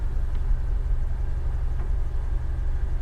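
Old RAM 50 mini truck engine idling, a steady low rumbling drone close by with even pulsing and no other sounds.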